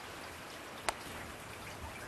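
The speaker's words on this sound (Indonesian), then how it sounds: "tapi masih hujan aja ini" Steady rain falls in a soft, continuous hiss with faint drips, heard from indoors with one brief sharp tap midway.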